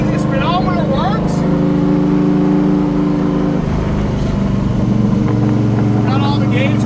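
A 1958 Rustmobile car fitted with air ride cruising on its first drive, a steady loud engine drone with a gear change partway through, under someone talking continuously.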